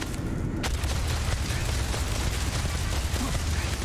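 A turret fires in the sci-fi video game Starfield, giving a dense, continuous roar of gunfire and booms that fills the whole stretch at high volume.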